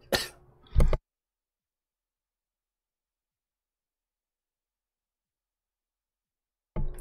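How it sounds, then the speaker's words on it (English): A single sudden cough, close and sharp, followed by long silence and then another brief throat noise at the very end. "That cough came out of nowhere."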